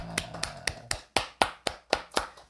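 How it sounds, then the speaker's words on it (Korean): Sharp, evenly spaced claps from a church congregation, about ten over a couple of seconds, crisp and fairly close, with no voices. "우리 하나님께 감사의 박수 올리겠습니다"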